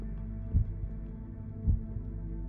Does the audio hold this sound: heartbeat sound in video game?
yes